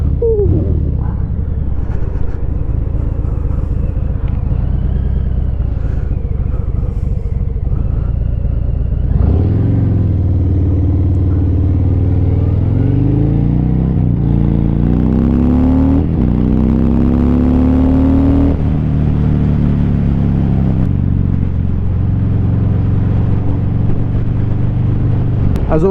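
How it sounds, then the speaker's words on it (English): A 2018 Harley-Davidson Fat Bob motorcycle with Vance & Hines slip-on exhausts, riding on the road: a deep, loud V-twin rumble that swells through several rising revs and gear changes, constant and close throughout. "Just listen to that exhaust."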